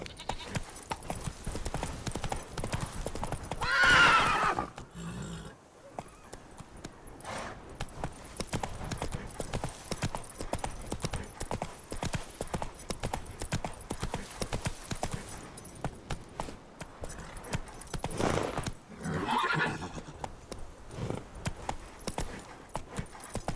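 A horse gallops in The Witcher video game, its rapid rhythmic hoofbeats continuing throughout, with a couple of loud neighs standing out near the start and again later.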